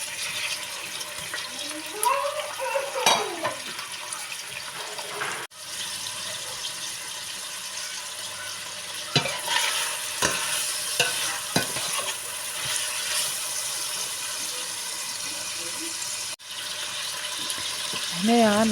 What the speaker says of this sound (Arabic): توا باش نزيدو تريفات اللحم يتقلاو شوية